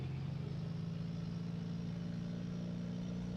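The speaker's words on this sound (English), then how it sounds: "Roll in full power with the throttle." A simulated aircraft engine at full throttle during takeoff in Microsoft Flight Simulator 2000 gives a steady, even, droning hum with no voices.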